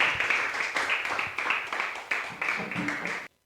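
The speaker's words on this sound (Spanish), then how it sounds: "déle otra ofrenda de palmas al que vive por siempre y para siempre" Church congregation applauding during a Spanish-language sermon on fasting, a dense round of clapping that swells in rhythmic waves and stops abruptly, with a voice faintly audible beneath.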